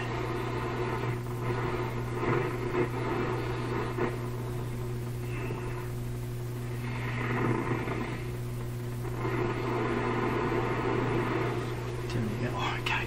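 A Rogers Majestic 4511 tube radio on a loop antenna, tuned to between-station noise: a continuous hiss with a low steady hum underneath, swelling and shifting in tone as the dial moves.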